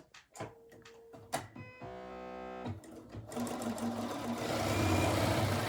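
A domestic sewing machine stitches fabric pieces for half-square triangles. It starts with a few close clicks and knocks of handling, then gives a brief whirring burst and settles into a long, steady mechanical hum that grows slightly louder toward the end.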